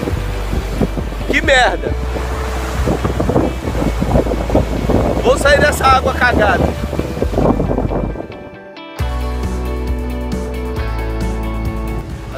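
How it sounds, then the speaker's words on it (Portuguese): Gusty wind buffets the microphone in steady rumbling bursts outdoors on a beach near Praia das Dunas, Cabo Frio, Brazil, while a person talks over it. "Se estiver ouvindo é por causa do vento."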